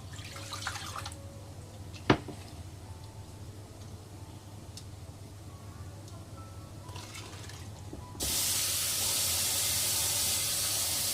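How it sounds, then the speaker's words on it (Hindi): Water is poured into a besan and buttermilk mixture for kadhi pakora. Quiet small clinks and drips come first, then a loud, steady broadband splashing pour starts abruptly near the end and continues without talking. "दो गिलास तकरीबन भर के इसमें पानी का जाएगा।"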